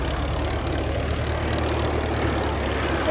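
The engine of a Royal Aircraft Factory SE5a, an original WWI biplane more than 100 years old, gives a steady, low, droning hum at moderate level, heard alone.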